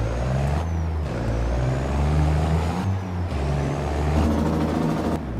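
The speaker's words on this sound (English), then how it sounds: "And yeah, I'll go get water with this truck." A truck's engine drones steadily and close, its low tone rising and falling through gear changes as it drives, with a faint hiss over the top.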